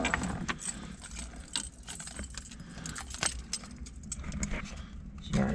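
Car keys jangle and rattle close by at the cold start of a 1965 Pontiac GTO Tri-Power convertible, with a steady low rumble underneath and a few sharper clinks.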